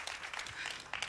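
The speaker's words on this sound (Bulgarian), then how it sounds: "Аплодисменти за Луна!" A television show audience applauds a performer with a brief wash of clapping that sounds faint and somewhat distant.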